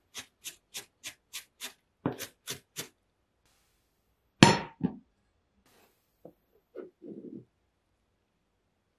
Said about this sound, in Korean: 슬라이스한 마늘은 다져줄게요.